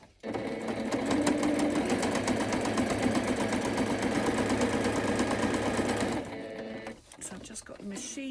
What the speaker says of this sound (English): So I've just got the machine set on a basic straight stitch.